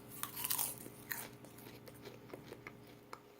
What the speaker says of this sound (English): sorry to chew with my mouth full, but I just wanted to show you how crunchy it is